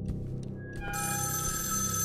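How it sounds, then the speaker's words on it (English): A telephone rings in the horror video game Evil Inside, a loud electronic bell tone that starts partway through and keeps going steadily over a dark, rumbling ambient background. "Where is the phone at?"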